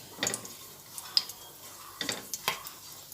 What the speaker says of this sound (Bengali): এলাচ দারচিনি আর লবঙ্গ সবই দিয়ে দিলাম এটা একটু ভাজা হয়ে সুন্দর সেন্ট না বেরোনো পর্যন্ত এটা আমি ভেজে নিচ্ছি